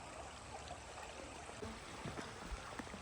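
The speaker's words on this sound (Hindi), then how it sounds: "कल कल बहता हुआ पानी, खूबसूरत नज़ारा देख सकते हैं।" River water flows steadily past a quiet bank in Balmonte Park, Vilnius, a continuous soft rushing with small splashy trickles rising now and then, heard close and alone with no talk.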